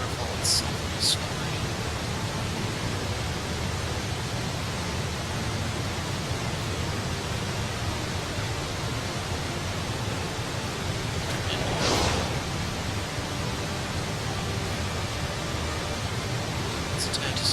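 Waterfall in the game Tales of Zestiria, a loud, steady rushing roar that fills the whole stretch, with a few brief clicks on top and a voice speaking over it.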